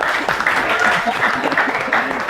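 Students in a law class break into brief applause, a dense patter of clapping mixed with voices talking and laughing nearby.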